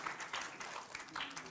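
Audience applause in a television debate studio auditorium, a steady wash of clapping that holds through the short stretch at moderate level.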